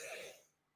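A single short cough from a person, faint and breathy, fading quickly into quiet.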